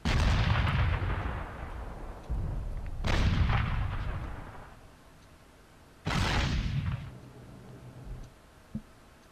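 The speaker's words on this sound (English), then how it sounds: "that gun actually has a very serious rate of fire for such a high caliber" An 88 anti-aircraft gun fires in the flight combat game IL-2 Battle of Stalingrad: three heavy booming shots a few seconds apart, each with a long rumbling decay, loud and fairly close, with no voices.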